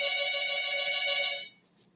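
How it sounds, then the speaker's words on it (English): A telephone rings in the background with a steady electronic trill that holds for about a second and a half, then cuts off into near silence. "Annoying telephones ringing in the background."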